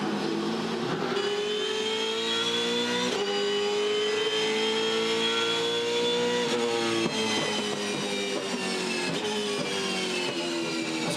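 V8 Supercars racing at the 2015 Bathurst 1000, with a steady, distant engine drone from the race cars that holds a sustained tone and shifts pitch briefly a few times.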